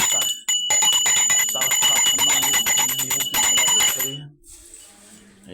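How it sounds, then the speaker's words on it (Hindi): A Garuda bell rung rapidly during a Hindu ritual, producing a loud, dense, continuous metallic jangle for several seconds that stops suddenly, leaving a quiet ringing tail. "गरुड़ घंटी की जब वाइब्रेशंस जहाँ पहुँचती हैं"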